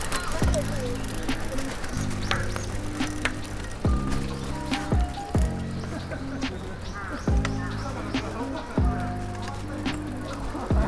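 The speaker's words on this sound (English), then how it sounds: "Lots of bird noises today." Cooing birds call repeatedly in regular, evenly spaced phrases along a cycling course in Japan, heard outdoors against steady background noise.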